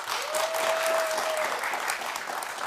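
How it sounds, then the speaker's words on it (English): Studio audience clapping their hands together, a steady dense wash of applause throughout, with a brief faint tone sliding across the middle. "clap your hands."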